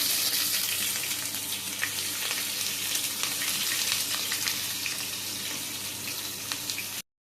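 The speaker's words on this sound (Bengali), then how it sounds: "এবার পেঁয়াজটা দিয়ে দেবো। পেঁয়াজটা লাল লাল করে" Onion frying in a pan gives off a steady, close sizzling hiss that runs unbroken for several seconds and then stops abruptly.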